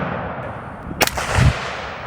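A .308 rifle fired at a fire hydrant outdoors: a single sharp, loud crack near the middle, followed by a brief low thud against steady background noise.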